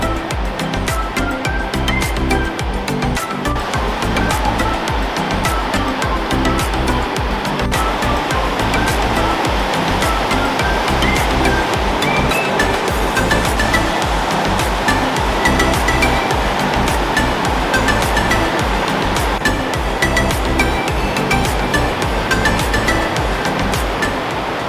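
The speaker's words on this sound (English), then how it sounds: "we think the water behind us is the waterfall" Benham Falls, a waterfall near Bend, Oregon, gives a constant loud rushing roar of water, steady and unbroken throughout.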